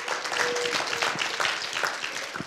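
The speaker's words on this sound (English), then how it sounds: "Let's give Jesus Christ another round of applause." A congregation at a Christian healing and testimony gathering claps together in a continuous, fairly dense round of applause, with a brief faint tone sounding underneath.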